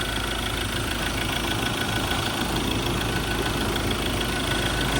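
A repaired Ford Everest engine, formerly misfiring and vibrating heavily, runs smoothly at a steady idle, a close, even rumble that continues unchanged.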